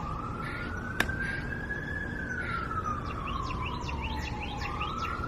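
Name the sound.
police car siren passing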